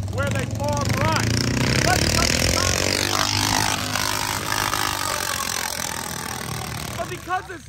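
Modified rice tractor engines at a drag race in Isan, Thailand, roaring and revving loudly and steadily while someone talks over them throughout.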